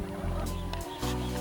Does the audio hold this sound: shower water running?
no